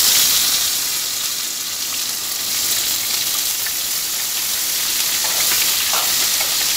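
Three medium onions fry in a pan, roasting toward golden brown, with a loud, continuous, close hissing sizzle that holds steady and has no speech.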